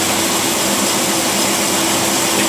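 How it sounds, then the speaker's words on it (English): An engine with a two-barrel carburetor that has a flat-spot hesitation, running loud and close as a dense, steady roar with a constant drone and no clear rise or fall. "The carburetor's got a flat spot hesitation right there."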